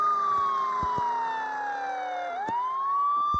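A siren wail in the game Offroad Car X slowly falls in pitch, then sweeps back up, sustained and prominent over a low engine drone with occasional clicks.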